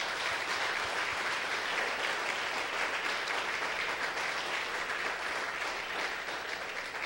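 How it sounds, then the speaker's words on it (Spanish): A church congregation applauding, steady broad clapping from many hands at moderate level that runs unbroken throughout. "Démosle un aplauso."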